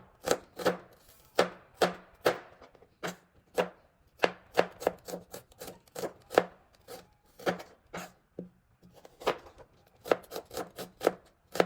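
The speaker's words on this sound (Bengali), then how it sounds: "আর তার সাথে কেটে নিচ্ছি রান্নার জন্য পেঁয়াজ ও মরিচ।" A knife chops onions and green chillies on a board in quick irregular bursts of sharp thuds, close and clear with short pauses between runs and no talking.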